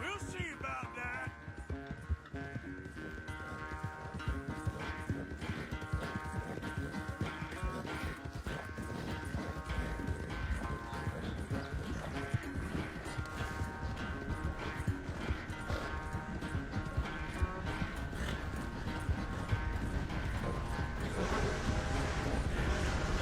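A horse gallops in Red Dead Redemption 2, its hooves beating in a steady, rapid clip-clop for over twenty seconds beneath a dense, continuous layer of game sound and music.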